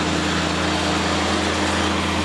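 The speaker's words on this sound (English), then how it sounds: "Can you hear the tractor?" Tractor engine running steadily in a field during food-plot work, a constant droning hum with strong low harmonics, near and alone with no talk.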